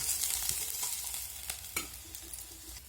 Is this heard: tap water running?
no